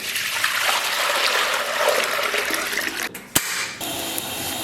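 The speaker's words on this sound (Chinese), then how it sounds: "锅里边稍微来点水" Water pours steadily into a cooking pot for noodles, a continuous close rushing splash that cuts off near the end with a brief clunk, leaving softer trickling.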